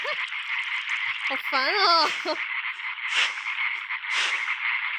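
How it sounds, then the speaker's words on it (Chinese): Frogs croaking in the side-scrolling puzzle game Limbo, a steady raspy chorus running throughout the clip, with a person talking briefly over it partway through. "青蛙的声音真好听啊！"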